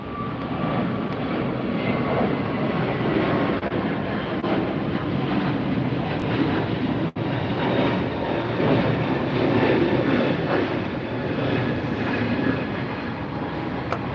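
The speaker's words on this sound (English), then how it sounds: "the Emirates A380 is coming in on the other side" An Emirates Airbus A380 comes in to land at LAX, its engines a broad, steady roar that holds loud for the whole stretch with a brief dip partway through.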